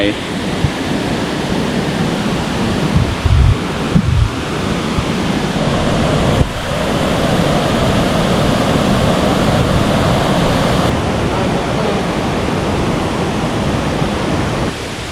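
Tat Kwang Chi waterfall in the rainy season roars as a loud, continuous broadband rush of falling water, with occasional bumps and faint voices beneath.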